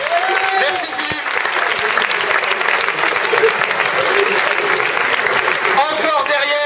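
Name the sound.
audience applause at a talent show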